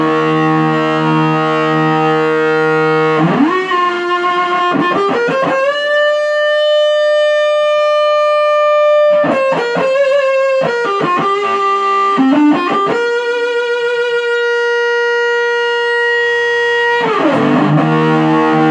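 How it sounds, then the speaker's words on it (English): FuzZatron 3-in-1 fuzz distortion pedal, buffered, driving a loud, thick sustained tone that holds long notes and slides between pitches, with brief choppy stretches, alone with no talk. "This is the 3-in-1 pedal fuzz distortion"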